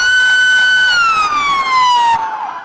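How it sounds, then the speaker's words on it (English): Fire truck siren sounding during an escort home, a single loud wailing tone sliding steadily downward in pitch, close and continuous with no voices over it. "The sounds of sirens fill the air, but these trucks are not headed to a fire."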